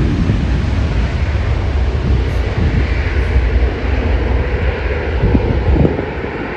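Fixed-wing airplane engine roaring steadily overhead near one of the country's biggest airports, a loud, continuous drone with light wind buffeting the microphone and no talking.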